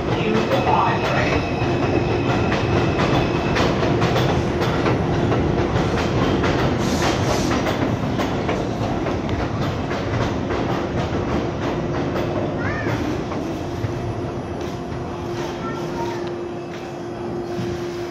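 An R142 subway train on the 5 line, bound for Wakefield, pulls out of the station with a steady, close rumble and continuous clattering of wheels on rail, holding loud throughout.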